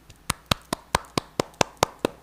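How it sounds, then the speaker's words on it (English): A single pair of hands clapping in a slow, steady rhythm, about nine sharp claps close by, welcoming an MMA guest onto a podcast. "Give ladies and gentlemen, round of applause for Mr."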